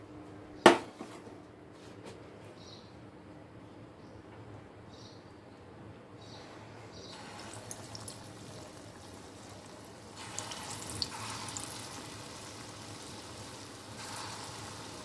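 Lentil fritters (bora) dropped into hot oil start a soft, fairly faint hiss with a few light clinks, then a fuller, steady sizzle that swells partway through and holds to the end, with no voices.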